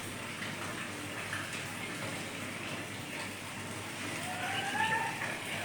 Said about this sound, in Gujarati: વરસાદ પણ બહુ ચાલુ છે